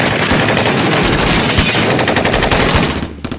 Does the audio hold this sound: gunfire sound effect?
yes